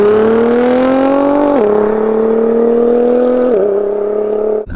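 An 800bhp Nissan R35 GTR engine revving hard, loud and close, its pitch climbing steadily, dipping sharply at two shifts, then climbing again before cutting off abruptly.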